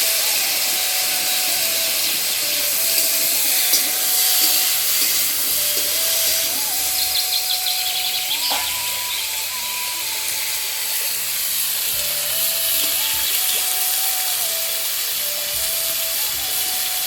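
Potatoes and stems drop into a pan of fried onions, raising a loud, steady hiss of sizzling oil that holds close and even throughout, with a faint thin tone running beneath.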